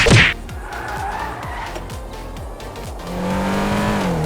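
A 2021 BMW M3 in GTA5 accelerating hard, its engine note climbing through rapid gear shifts with a brief tire squeal at the start, the revving held steady and loud before a higher whine takes over.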